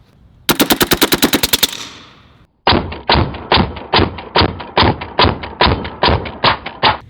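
A Western Sidewinder .30 caliber airgun fires full auto at a range: a fast sharp burst of about a dozen shots, a brief pause, then a steady string of loud, evenly spaced shots with thuddy impacts.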